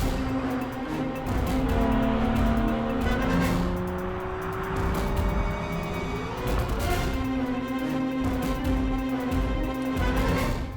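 An Aston Martin DB sports car drives by with a loud, sustained engine note that rises and falls in pitch as it accelerates and shifts, close and continuous throughout, with no talking.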